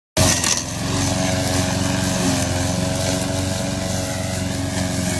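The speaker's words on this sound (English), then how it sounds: "Lawnmower's got a mind of its own." A lawnmower engine starts abruptly and keeps running at a steady, loud, buzzing drone close by. The sound holds throughout with no voices.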